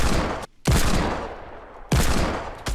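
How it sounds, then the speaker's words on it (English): Gunfire in Fortnite Battle Royale erupts in two loud, dense bursts of rapid shots, the first cut off briefly before resuming, with no voices over it. "Judging from the sound of gunfire and explosions happening"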